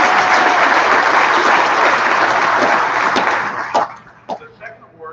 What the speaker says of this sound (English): Let's give Eileen a good round of applause